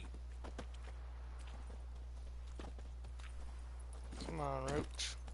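Hooves of the horse Roach clip-clop steadily in The Witcher 3 over a constant low hum, with a brief voiced shout near the end.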